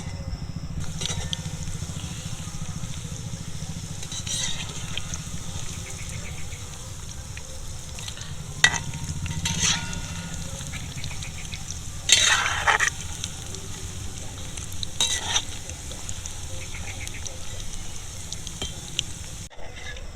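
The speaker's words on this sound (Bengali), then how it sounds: "মাঞ্চুরিয়ানের বলগুলো ভাজা হয়ে গেছে এবার আমি তেল থেকে এগুলোকে তুলে নেব" Veg manchurian balls made from fresh cabbage deep-frying in hot oil, a steady dense sizzle and bubbling throughout with a few scraping stirs, close and moderately loud with no talk.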